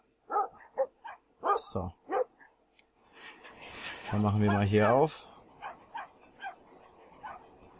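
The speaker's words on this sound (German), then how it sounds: "Da, der kleine Hund, der zerreißt ihn jetzt." A dog in the video game Brothers: A Tale of Two Sons barks in several quick yaps, then gives a longer, higher strained cry as it attacks, with someone talking in German around the barks.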